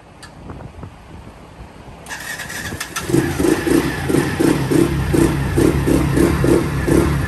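A Can-Am DS90X ATV engine with the choke pulled catches after a few quiet clicks, then settles into a loud, close, steady pulsing idle that continues to the end.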